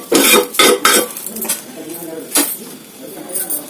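A crisp dosa is lifted off a hot pan with a metal spatula, giving several sharp scrapes and clinks of metal on metal, loud and close, then lighter scraping as the pan goes quieter.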